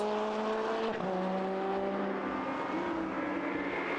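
Lotus Cup race cars at the Spa circuit, a steady, loud engine drone with shifting pitch as several cars pass and accelerate, with no voices over it.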